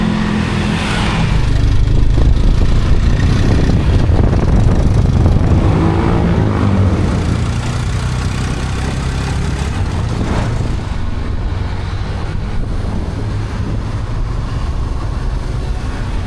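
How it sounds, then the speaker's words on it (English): A motorbike taxi engine drones and revs continuously for several seconds in Bangkok, loud and close, with road rumble and wind noise and no voices. "Let me just grab a motorbike taxi"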